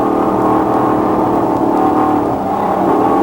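A dirt track race car at Super Dirt Week 1994, heard onboard, with a loud, continuous engine roar that stays steady and dense throughout.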